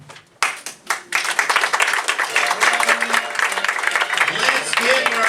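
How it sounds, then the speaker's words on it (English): An audience at a holiday radio show performance breaks into sustained clapping for the cast, beginning after a brief lull and building into dense, loud applause that continues steadily to the end. "Let's give our entire wonderful cast a big round of applause."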